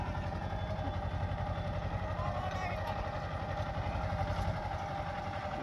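A mini tractor engine sowing mustard in a field, a steady rumbling mid-pitched drone that holds even throughout, close and continuous.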